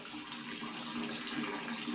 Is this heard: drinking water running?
yes